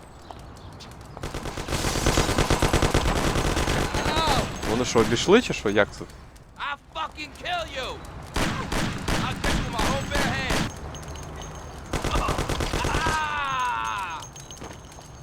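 Rapid gunfire bursts from Mafia: The City of Lost Heaven, loud, dense machine-gun volleys and single shots in repeated clusters, with someone talking in between and over the shooting.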